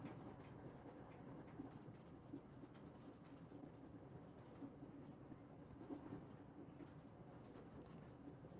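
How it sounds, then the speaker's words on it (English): Steady low rumble of a train rolling over rail tracks, heard from inside the carriage, faint and continuous with soft rhythmic bumps and no talking. "What you remember clearly is the sound of rail tracks."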